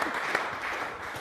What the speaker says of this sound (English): Can we applaud?